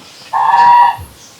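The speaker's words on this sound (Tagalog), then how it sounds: "Meron ditong gansa." A single loud goose honk, a drawn-out nasal call lasting about half a second, close by with faint background noise around it.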